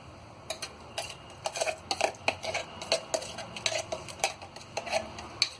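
Ground radish chutney is scraped from one pot into another, a rapid string of clinks and scrapes of a metal spoon against the vessels, close and fairly loud with no talking.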